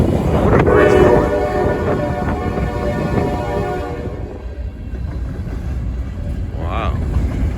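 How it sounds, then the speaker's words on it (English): A big freight train rolls past nearby, a loud continuous rumble and clatter with a brief horn blast near the start and another faint horn toward the end. "There's a big train."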